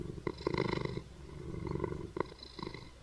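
Cat purring in the Minecraft video game: a close, rhythmic rumbling purr in repeated pulses that swell and fade a few times, with no talking.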